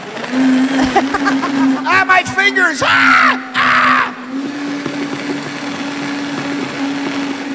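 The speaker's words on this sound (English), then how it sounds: "and he's grinding it up in a blender now" A blender grinds strawberry daiquiri mix with ice and overproof rum, a loud steady whirring motor hum running the whole time, with a shouting voice and talk over it partway through.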